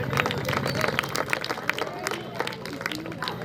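Applause for teachers and parents at a Republic Day school celebration at RVMM School in Dubbak, a crowd clapping steadily and loudly with scattered voices in the background.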